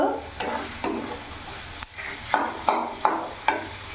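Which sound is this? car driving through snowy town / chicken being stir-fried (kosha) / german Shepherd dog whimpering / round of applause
chicken being stir-fried (kosha)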